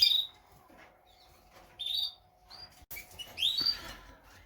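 Canaries in a breeding flight chirp and twitter in short bright bursts, several birds calling close by over a soft background hum, with no voices.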